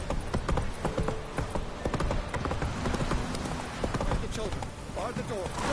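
Horse hooves galloping in The Witcher video game, a steady rapid clip-clop kept up for the full six seconds with game sounds underneath and a voice speaking over it.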